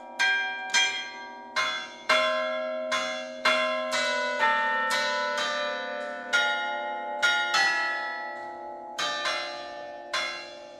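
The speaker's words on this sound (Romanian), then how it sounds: "Clopotele, că erau foarte mari și foarte sunau foarte tare" Large, very loud bells ring in a palace clock tower in Iași, striking about a dozen times in a steady sequence, each rich metallic peal ringing on and overlapping the next, with no talking.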